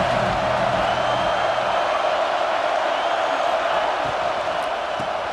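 Steady, loud roar of a stadium crowd in the EA Sports College Football 26 video game, a dense wash of noise that holds level throughout with no pauses and no talk over it.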